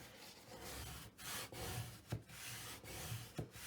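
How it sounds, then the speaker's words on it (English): Paper is burnished down onto adhesive on a mixed media folio, giving soft repeated rubbing strokes, close and quiet, in an uneven back-and-forth rhythm. "And burnish that down well."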